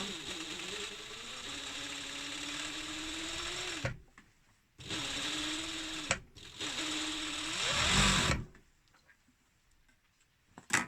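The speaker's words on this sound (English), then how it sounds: "we'll move across to the overlocker" An overlocker sewing machine runs close by in bursts: a steady whirring stretch of about four seconds, a pause, then two shorter runs before it stops.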